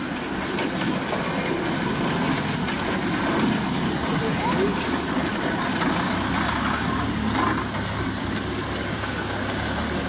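A 1950 Case engine running in a pioneer engineers' parade in Rushville in 2014, giving a steady, heavy mechanical rumble that stays loud and close for the whole stretch without breaking.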